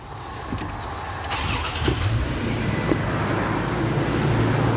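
A Mazda car with a rear main seal oil leak is push-button started, with a short cranking burst that catches and settles into a steady engine idle close by.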